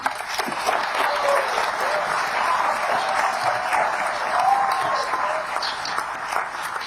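An audience at a public dialogue event in Bangalore gives loud, sustained applause to a Union Home Minister, with dense clapping from many people that holds steady for several seconds.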